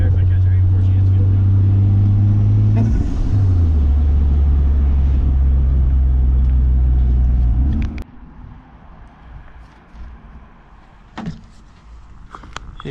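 Supra truck engine with a new intercooler setup running loud and close, a heavy droning rumble that shifts pitch, then cuts off abruptly, leaving quieter ambient noise with a few knocks.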